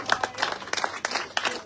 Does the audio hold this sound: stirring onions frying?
no